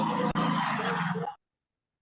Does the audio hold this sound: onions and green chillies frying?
no